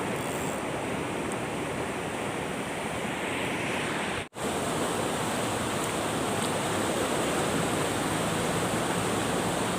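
Water pours steadily over a small weir in a continuous broadband rush, close and loud, with one brief cut partway through and no voices.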